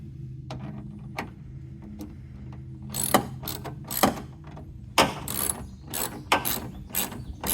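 Ratcheting wrench tightening two plastic-mounted bolts on a 2022-2024 Ford F-150 Lightning tail light, quick clicking bursts growing busier toward the end, close and alone without talk.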